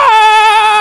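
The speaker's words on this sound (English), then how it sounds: "that scream is seemingly very genuine" A person screams in a scary video of supposed paranormal or unexplained phenomena: one sustained, very loud, high-pitched wail lasting under a second, alone with no talk.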